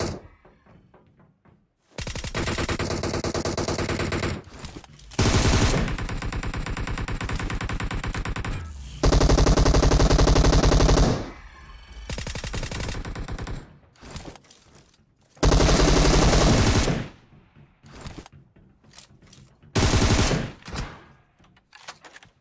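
Bursts of automatic gunfire fill a PUBG Mobile match, with loud sustained volleys alternating with shorter rattling bursts and brief pauses, with no talk.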